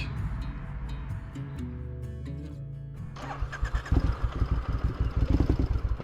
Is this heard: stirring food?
no